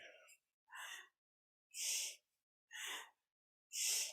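Deep rhythmic breathing during a kundalini yoga spinal flex, five distinct breaths alternating inhale and exhale, each about half a second, close and fairly soft with pauses between, no talking.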